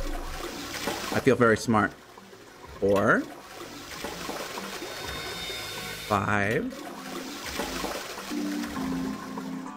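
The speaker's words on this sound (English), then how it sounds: "Flushing toilets?" Repeated toilet flushes in the video game Nine Hours, Nine Persons, Nine Doors, several short rushing bursts of water separated by pauses, loud and close, with someone talking over and between them.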